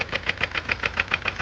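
A Hyundai i20 engine idling with a pronounced connecting rod knock, a rapid, steady metallic tapping that repeats several times a second over the engine hum, loud and close.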